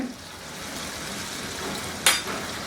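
Capsicum and onion frying in chili chicken sauce: a steady, close sizzle followed by two sharp, bright bursts as the vegetables go in or are stirred, with no voice over it.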